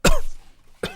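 A person coughs close by: a harsh burst at the start, then a second short cough just under a second later, with quiet in between.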